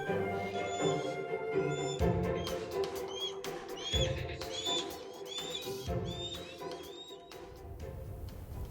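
A strange bird call in a children's dragon story, repeated chirping and whistling cries over layered musical background, moderately loud and continuous.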